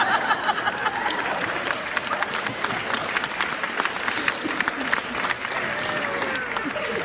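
A crowd breaks into steady applause, dense clapping running at an even loudness throughout, with faint murmuring voices mixed underneath.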